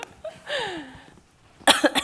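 A single close, harsh cough from a person with a cold breaks out after a quiet stretch with a faint rising whine, loud and abrupt near the end.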